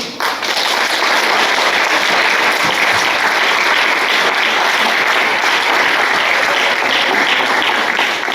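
Loud, sustained applause fills a doctoral ceremony hall where a medical agrégation degree is being conferred, a dense steady roar of many hands clapping without letup from start to finish.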